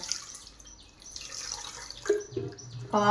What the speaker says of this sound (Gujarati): આપણે આ માખણને પાછું બે વાર ધોઈ લેવાનું